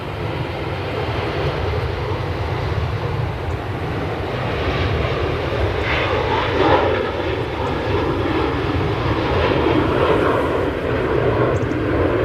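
A Norwegian airliner at Manchester Airport in the early morning makes a sustained, loud jet engine roar that holds steady throughout, heard from some distance with no talk over it.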